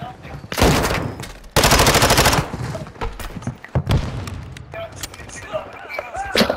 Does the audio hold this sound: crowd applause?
no